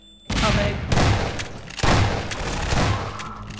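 Loud bursts of gunfire from the video game Half-Life 2: Episode Two, three heavy volleys spaced about a second apart with a dense roar of shots between them.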